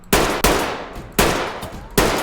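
Four sharp gunshots from a gun in the video game Ready or Not, fired at an uneven pace with ringing decays between them, loud and close with no talking.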